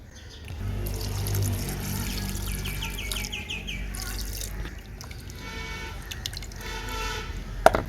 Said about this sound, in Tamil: அவியறதுக்கு தேவையான தண்ணி சேர்த்துக்கலாம்